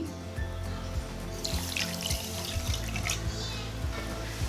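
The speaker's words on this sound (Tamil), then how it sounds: "1 கப் சர்க்கரைக்கு 1 கப் தண்ணி ஆட் பண்ணிக்கோங்க." Water pours steadily into a pan holding sugar to make syrup for a sweet, a continuous splashing stream with faint intermittent clinks underneath.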